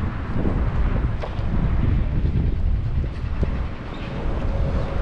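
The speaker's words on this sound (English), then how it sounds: "the afternoon winds have definitely picked up" Strong afternoon wind in San Francisco buffets the microphone in a constant low roar, with a rumbling, train-like undertone and no talking.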